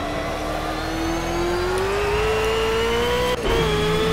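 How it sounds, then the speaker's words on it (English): Race car engine pulling hard at full throttle out of a corner on a track, a steady rising whine climbing in pitch for several seconds before a quick gear change, loud and alone. "We're going to go onto the throttle full throttle, just carry as much speed down through as possible."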